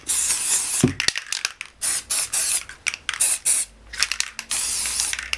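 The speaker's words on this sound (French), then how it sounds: "On y va, on secoue. Et on vient mettre sa colle." A can of spray glue rattles as it is shaken, then lets out short, close, hissing bursts of spray in an uneven series with brief gaps between them.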